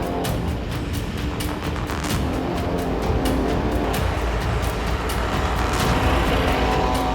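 A field of race cars roars off the start at Silverstone circuit for a two-hour race, a dense, loud continuous engine wash with repeated sharp bursts as cars accelerate past close by.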